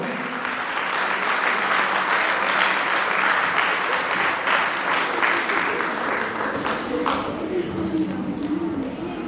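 A concert audience applauds warmly with sustained, dense clapping that stays loud throughout, then eases slightly toward the end.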